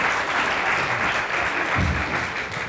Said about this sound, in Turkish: Alkışlanacak yerde de alkışladınız.